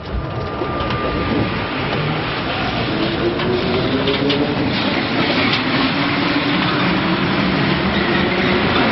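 A metro train runs in a steady, loud rumble with rattling carriage noise throughout, broad and continuous with faint rising wheel squeals, no talk.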